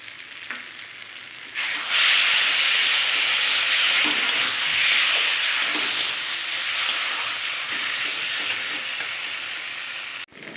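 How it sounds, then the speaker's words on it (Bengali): Fried potatoes with spice paste and poppy seed and cashew paste sauté in a pan, a loud continuous sizzle that bursts in about two seconds in, holds steady with faint scrapes, then cuts off abruptly near the end. "তো দেখো কাজু আর পোস্ত দিয়ে একটু কষিয়ে নিয়েছি 2 মিনিটের মতন"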